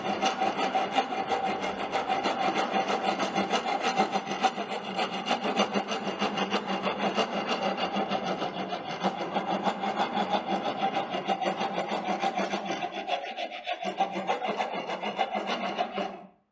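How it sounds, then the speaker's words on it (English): A rasp file smooths and planes a wood surface in a carpentry shop, giving a steady, continuous scraping rasp that stays loud and close throughout, with one brief dip near the end. "now the planing or smoothing of this will be done with the help of rasp file."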